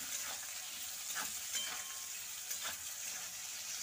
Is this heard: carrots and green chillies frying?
yes